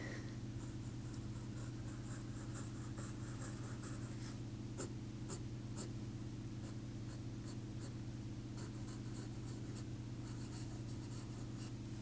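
A Blackwing pencil sketches on paper in steady, close scratchy strokes with occasional sharper taps, over a constant low background hum, with no talking.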